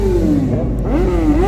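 Motorcycle engines revving hard at a chill meet in San Antonio, a loud close throaty roar rising and falling in pitch twice over a second and a half.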